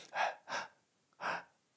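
Audible breaths drawn sharply close to a microphone, three short gasping intakes in quick succession with a pause before the last one, no talking.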